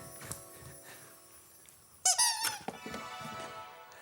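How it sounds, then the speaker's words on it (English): A squeaky dog toy is squeezed, giving a loud burst of shrill rubbery squeaks after a quieter stretch, then tapering off into softer squeaks. "They're very squeaky, aren't they?"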